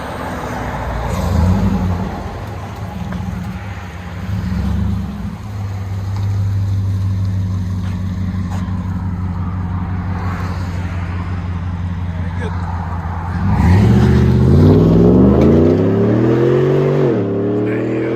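Supercharged GMC Sierra 6.2L V8 on straight pipes with a Magnaflow performance exhaust, idling with a steady low rumble before a loud rev climbs and falls near the end, with people talking over it.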